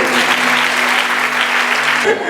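A church congregation applauds together, a dense, loud, continuous clapping that holds steady for a couple of seconds before stopping abruptly.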